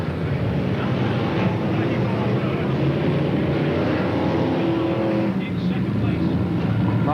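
BriSCA Formula 1 stock cars race around a 350-metre circuit at Coventry in 1982, their engines making a dense, loud, unbroken roar. A voice talks over the racing.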